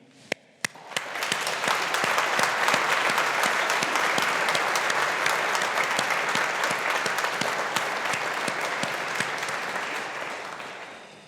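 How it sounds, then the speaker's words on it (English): A graduation ceremony audience at Strathclyde Business School claps for the graduates' supporters, opening with a couple of sharp isolated claps before swelling into loud, sustained applause that slowly tapers toward the end. "show your appreciation and gratitude with a sincerely felt round of applause for those here and for those who can't be here"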